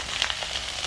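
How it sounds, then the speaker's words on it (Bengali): Spices fry lightly in hot oil in a pan at home, a soft continuous close sizzle with small crackling pops scattered throughout. "তো আমি একবারে সব দিয়ে নিই, ভেজে নেবো একটু হালকা মতো।"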